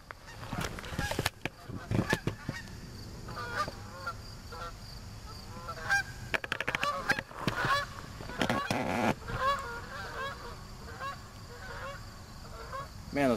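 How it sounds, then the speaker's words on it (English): Several geese flying in formation honk repeatedly, their calls overlapping in a loose, irregular chorus at moderate distance, with a few sharp bursts of noise mixed in. "those geese were beautiful, huh? Nice tight formation"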